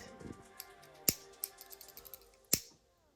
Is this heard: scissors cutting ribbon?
yes